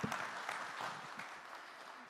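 Audience applause at a tech summit in Bengaluru, a steady wash of clapping from a crowd that fills the whole moment at an even level, with no talk over it.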